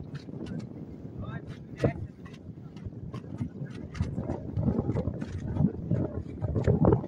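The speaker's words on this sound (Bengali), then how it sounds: "আমরা একটা নৌকাতে আছি, নৌকা সামনের দিকে এগোচ্ছে।" A boat moving along the Jamuna river at Bhuapur, Tangail, with water sloshing and wind buffeting the microphone, plus scattered knocks and rustles throughout.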